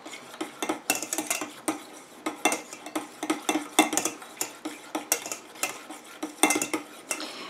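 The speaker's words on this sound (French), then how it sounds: "Et je viens mélanger jusqu'à ce que mon urée soit complètement fondue." A utensil stirs urea into the aqueous phase of a pink clay and carrot face mask inside a small container, giving quick, irregular metallic clinks and scrapes close up throughout with no talking.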